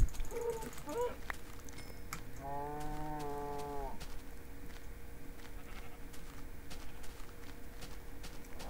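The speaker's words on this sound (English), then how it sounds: "Found like the biggest herd of cows ever." A cow in the Minecraft video game gives one clear, drawn-out moo in the middle of a quiet stretch, with faint footsteps and ambient noise around it.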